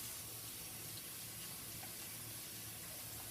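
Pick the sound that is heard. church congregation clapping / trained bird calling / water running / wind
water running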